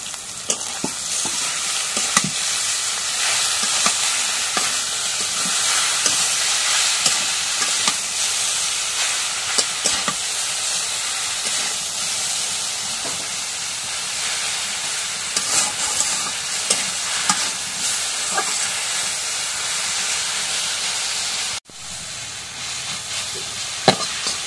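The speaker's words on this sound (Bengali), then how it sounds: "এখন শাক ভাজি এখন নামায় নিই" Leafy greens (mara shak) being stir-fried in oil in a pan, a loud continuous sizzle with repeated scraping of the utensil throughout, briefly cut off near the end before the hiss resumes more quietly.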